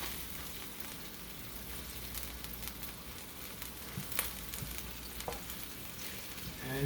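Curry shrimp stir-fry with soy sauce just added, stirred in a pan: a soft, steady sizzle with occasional scrapes and clicks of the utensil, fairly quiet and without talk.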